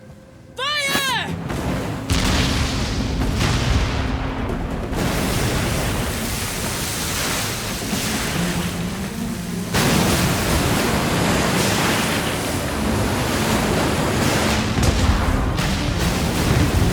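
Heavy naval cannon fire in Like a Dragon: Pirate Yakuza in Hawaii, a dense, roaring barrage of booms and rumbling surges that runs continuously for the whole stretch, with a fresh swell of blasts midway.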